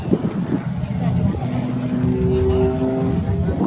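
Propeller aerobatic airplane engine at an air show in Orange County, New York, a steady drone with rising harmonic whine as it pulls, under continuous announcer commentary.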